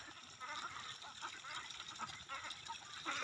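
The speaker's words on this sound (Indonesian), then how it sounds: "angon bebek petelur" A flock of domestic laying ducks being herded gives faint, overlapping quacks and chatter at a distance, a continuous low-level murmur of birds without clear speech.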